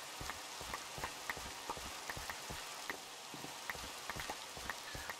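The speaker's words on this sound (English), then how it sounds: "they're probably not going to be out during the rain" Steady rain falls in a Minecraft world, a constant hiss with scattered sharp drip taps throughout, even and moderately loud, with no voices.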